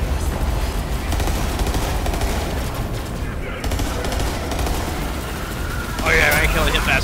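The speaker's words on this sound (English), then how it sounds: "Stop shooting me!" Dense, rapid gunfire from a Borderlands 3 firefight, sustained volleys of shots crackling loudly and continuously, with a burst of sharper, brighter effects near the end.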